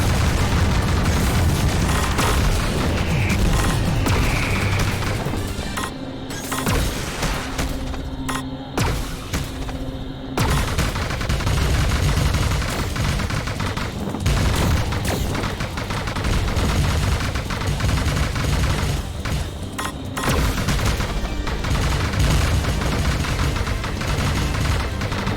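Heavy gunfire and explosions in the Panzer Dragoon Remake video game as shots hit a huge flying battleship, a dense continuous barrage of loud blasts and rumbling booms with no break.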